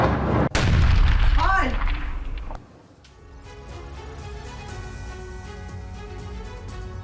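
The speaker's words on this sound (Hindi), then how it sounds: "लुहांस्क में यूक्रेन का जबरदस्त मिसाइल अटैक हुआ है" A sharp, heavy blast from an ATACMS missile strike in Luhansk opens the sequence, followed by a rolling roar. The noise drops off abruptly after a few seconds into a low, lingering rumble.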